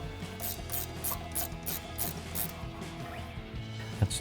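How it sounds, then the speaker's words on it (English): A 13 mm ratcheting wrench clicks steadily as it backs out a brake caliper bolt on a 1999–2004 Ford Mustang, its rapid pawl ticks repeating in close, quiet bursts with a small knock near the end. "I'll take my 13 millimeter ratcheting wrench here, remove these two bolts right here"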